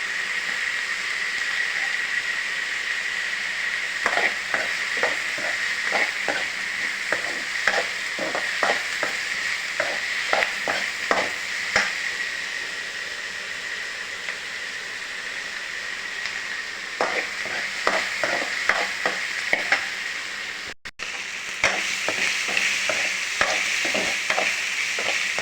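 Ingredients for a pirandai chutney, including tamarind, sauté in a pan under steady frying hiss, with repeated scraping strokes of a spatula stirring in rhythmic runs and short pauses.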